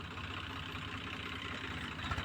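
A tractor engine runs at a steady, low rumble while sowing a cotton field, heard faintly and at a distance with no talk.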